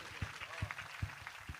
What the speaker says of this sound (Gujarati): અરે તાળી પાડવી જોઈએ.